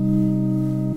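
A sustained synth pad tone from a music production session holds steady and loud for about a second, with rich stacked harmonics and a clean release at the end.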